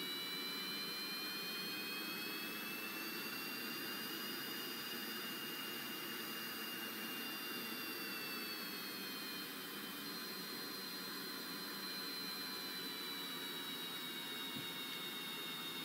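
A steady, loud jet engine roar at low thrust from an aircraft in a video game, a continuous broadband rush with high whining tones drifting slightly, unbroken for the whole span with no talk.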